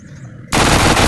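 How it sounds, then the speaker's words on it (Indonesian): Rapid automatic gunfire in the video game Dude Theft Wars, fired at an invisible wall; a quiet lead-in gives way to a loud, sustained burst that runs to the end. "Coba kita tembak guys, kita tembak saja."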